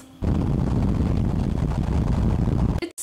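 Loud car interior noise while driving, a steady dense rumble and roar filling the cabin close up, with no talk, cutting off abruptly at the end.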